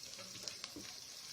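Onions frying in a pan for a korma give a steady, close sizzle with faint stirring clicks, unbroken for a moment and without talk.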